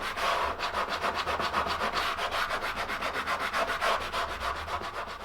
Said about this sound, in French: on est sûr d'avoir un ponçage qui est régulier sur toute la largeur